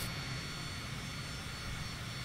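Airplane engine of a private plane in Microsoft Flight Simulator, flying from Bucharest to Sibiu: a continuous, loud, broadband engine roar and hum that holds steady throughout, with no speech.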